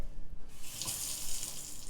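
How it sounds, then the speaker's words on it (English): A wave-controlled kitchen faucet runs water into a sink in a remodeled kitchen, producing a steady, close hiss of flowing water with no voices. "This kitchen boasts a wave-controlled faucet"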